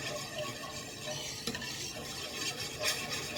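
Whisk stirring mustard into a breakfast casserole mixture in a bowl: soft continuous swishing and wet scraping close by, with a couple of sharper taps against the bowl.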